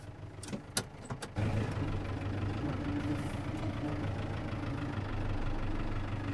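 A farm tractor engine idles steadily and close by, a continuous low rumble with a faint knocking texture, after a few sharp knocks and clunks in the opening second.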